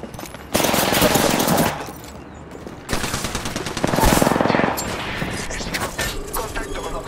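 Sustained automatic gunfire in Apex Legends rattles in long bursts separated by short pauses. It is loud and close, with explosive effects and a voice speaking over parts of it.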